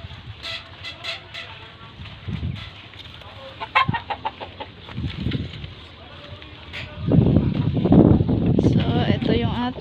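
Native chickens cluck in short bursts close by, including a hatching hen, with some chick-like peeps, while a voice talks over parts of it and the later seconds grow louder.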